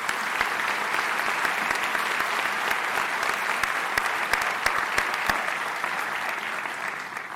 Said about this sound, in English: Please join me in applauding their good work on behalf of our students